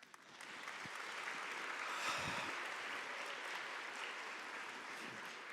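An audience claps steadily for several seconds at a women's leadership panel in Ottawa, a dense, even wash of applause heard from a little distance.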